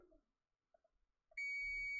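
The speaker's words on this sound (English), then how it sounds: "that should beep nice and loud" A CNC controller board under test gives a loud, sustained electronic beep that starts abruptly partway through and holds steady to the end, after a few faint knocks and taps.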